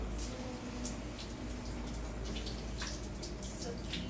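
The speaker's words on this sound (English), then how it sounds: "I want to rinse just your left hand in the conditioned water" A hand being rinsed under running conditioned water from a home water system, a steady, faint splashing wash with soft intermittent spatters throughout.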